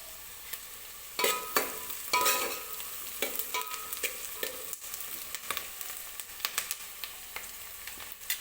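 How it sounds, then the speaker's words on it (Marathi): Chopped onion sizzles and fries in hot oil until soft for a vegetable pulao, with steady crackling and repeated sharp scrapes and clinks as it is stirred, close and alone. "कांदा व्यवस्थित आपल्याला सॉफ्ट होईपर्यंत तेलामध्ये भाजून घ्यायचा आहे"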